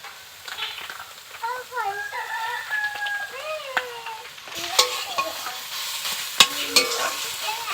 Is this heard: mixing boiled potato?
yes